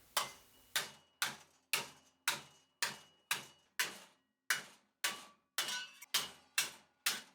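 Hammer blows on a metal piece being bent into a curve for a Mad Max style cyclone dust collector, eleven sharp ringing strikes at a steady rhythm of about one every 0.6 seconds, close and alone with no talk.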